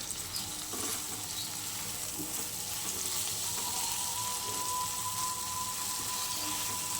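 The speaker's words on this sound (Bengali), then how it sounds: "চলো এবার আমি একটু সুন্দর করে ভেজে নিই" Egg bhujia frying in a pan, a continuous close sizzle with soft stirring scrapes, steady and fairly quiet, with no talking.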